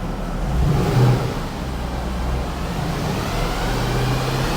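Mercedes W204 C63 with the M156 V8 running at full operating temperature, idling with a deep, steady low rumble and a brief swell in revs near the start, close and loud with no voices.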